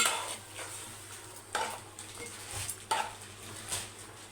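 A spoon stirs fish pieces and spices around a pot for a fish curry, giving soft scraping and clinks of metal with a few sharper knocks over a low, faint sizzle. The sound is close and there is no talking.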